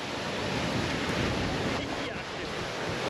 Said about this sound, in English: we have such big waves visible, that is, they are on us